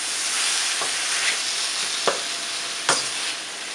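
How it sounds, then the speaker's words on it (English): Prawns frying in a pan with ginger garlic paste and salt give a steady, loud broadband sizzle, broken by a few sharp utensil scrapes or stirs near the end, with no voices. "ginger garlic paste and salt to taste, and I will fry them for about 4 to 5 minutes."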